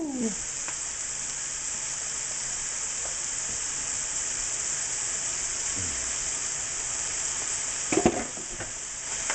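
Sausage browning in a pan gives a steady, even sizzle throughout, close and constant, with a few soft clinks and scrapes of stirring near the end.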